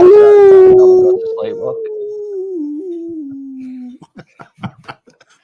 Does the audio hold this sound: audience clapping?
no